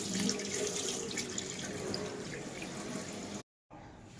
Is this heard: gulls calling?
no